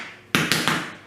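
A rubber mallet taps Shaw vinyl floor tiles together at a seam, three sharp, close knocks in quick succession after a brief quiet pause.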